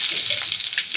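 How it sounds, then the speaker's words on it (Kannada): Cumin and mustard seeds crackle in hot oil for a brinjal dish in a village kitchen, with a close, steady sizzle and quick popping throughout. "ಜೀರಿಗೆ ಸಾಸಿವೆ ಚಟಪಟ ಅನ್ನಕತ್ತಾವ."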